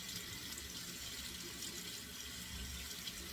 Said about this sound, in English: Let's put on some cold water here so we get 2 cold water splashes.